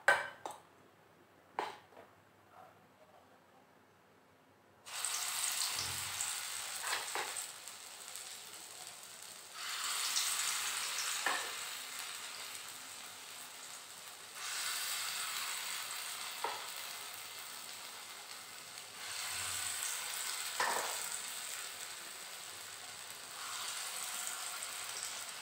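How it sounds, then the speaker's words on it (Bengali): Bora fritters frying in hot oil in a wok, a steady close sizzle that starts after a few seconds of near silence and swells as more batter drops in, with occasional spoon taps. "এবার এক একটা করে বড়া ভেজে নেব।"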